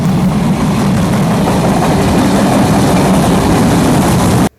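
A train pulls into a railway station on a rainy day, its loud, steady engine rumble and rolling noise filling the scene until it cuts off abruptly.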